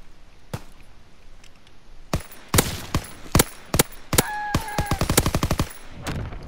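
Gunfire in a WW2 capture-the-flag video game: scattered single shots, then a rapid burst of automatic fire, loud and sharp with quiet gaps between.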